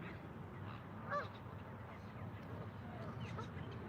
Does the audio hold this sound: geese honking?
yes